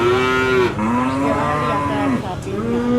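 Cattle at a livestock market lowing loudly and close by, a few long moos one after another with short breaks, set against faint crowd noise.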